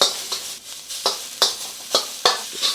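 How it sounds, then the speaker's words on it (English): Ginger and garlic stir-fry in canola oil, a close sizzle broken by five or six sharp, regular scraping stirs of the spatula, with no talking. "Stir fry that for about 30 seconds."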